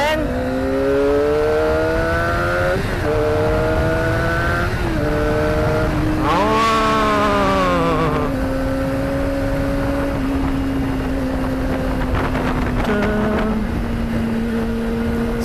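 A Kawasaki ZX25R four-cylinder motorcycle engine revs and holds a steady drone, rising and falling in pitch with a sharp surge in the middle, loud and close, while a rider talks over it.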